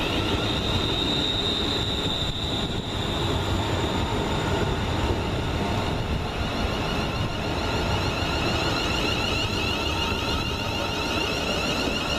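Electric train unit 38104 pulls into a station on the East Kilbride line near Glasgow, a continuous rolling rumble laced with high, wavering wheel squeal throughout, close by and with no voices.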